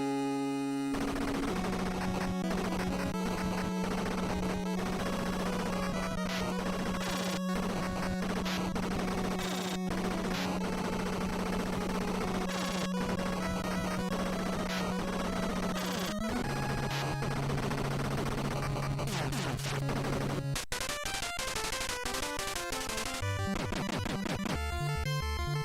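Rapid, continuous machine gun fire from an NES video game boss fight rattles over chiptune music and sustained electronic tones, dense and unbroken throughout, with harsher noisy bursts near the end.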